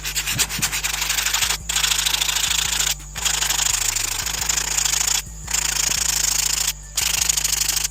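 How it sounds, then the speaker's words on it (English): Sandpaper rubbed over a stained surface where the stain isn't sticking, a steady close rasping scrub that runs on continuously and breaks off in three brief pauses. "hit whatever area isn't sticking with a little bit more sandpaper"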